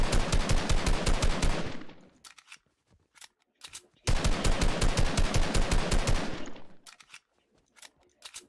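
Automatic gunfire in the Fortnite Chapter 5 video game: two long, loud rapid bursts of about two seconds each, separated by a short gap with scattered single shots, with no speech.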